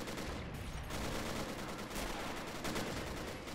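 Sherman tank and flak gunfire in the Men of War game during a coastal amphibious landing in Africa: dense, continuous rattling bursts, loud and unbroken, with no talk.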